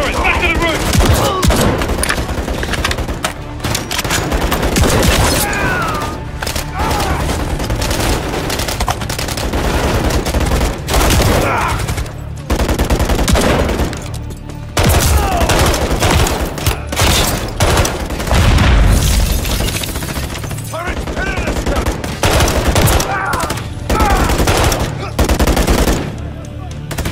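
Turret machine gun fire in Call of Duty Modern Warfare 3, loud sustained bursts rattling almost nonstop with short gaps, mixed with other in-game gunfire and effects.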